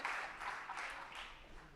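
A church congregation applauds a young preacher at an evening youth service, a soft, steady wash of distant clapping.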